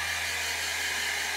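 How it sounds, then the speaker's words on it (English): A hair dryer on high heat blows over hair set with hairspray, giving a loud, steady, close whoosh with no break and no talking. "with the hair dryer, I'm just gonna go in and blow dry the hair"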